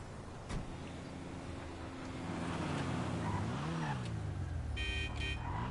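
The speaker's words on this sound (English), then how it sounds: "Race car. Nice." Race car engine in GTA Online on PS5, a steady revving drone that rises and falls in pitch as the car accelerates and shifts, with faint tire noise near the end.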